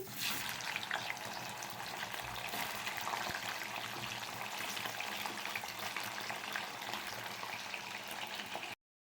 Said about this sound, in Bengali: পনিরটাকে ভালো করে ভেজে নেব।